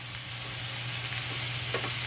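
Spice paste being stir-fried in a pan over a medium gas flame for a kopi shim prawn dish, a steady close sizzle with soft scraping stirs and a low hum running beneath.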